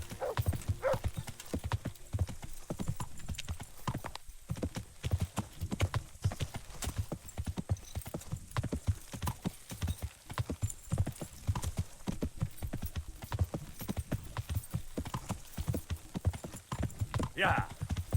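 Horse hooves clopping steadily while riding in the medieval video game Kingdom Come: Deliverance, a continuous rhythmic gait with occasional whinnies, heard under someone talking.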